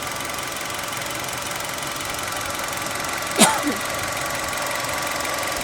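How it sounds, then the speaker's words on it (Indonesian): A 1500 cc Nissan Juke RX engine idles in normal, well-kept condition, giving a steady, even hum with faint tonal drone, interrupted once by a short sharp click-like knock near the middle. "Di sini mesin sudah dinyalakan dan suara mesin normal."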